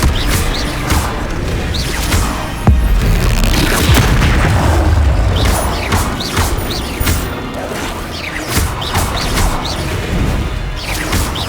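The Flipendo spell in Hogwarts Legacy is cast, then booms and crashes on impact amid dense, continuous combat noise with whooshes and heavy thuds, loud and close, no talking.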